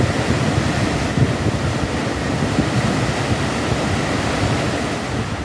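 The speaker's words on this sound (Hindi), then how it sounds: "नदी में लहरों की रफ्तार ऐसी कि देखने वालों की सांसें थम जाएं।" The swollen Ramganga river in Pithoragarh rushes in flood, a continuous loud roar of churning water and waves with no break and no voices.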